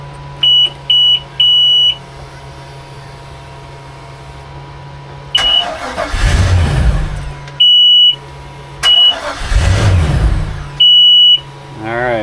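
Volvo Penta 5.0GXI marine engine on muffs, cranking twice in long grinding bursts without catching, each attempt broken by beeping warning tones that also sound before and between the tries.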